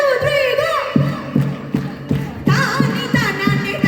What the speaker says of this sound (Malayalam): ഇപ്പുറത്ത് എല്ലാവരും കൈയടിക്കും കേട്ടോ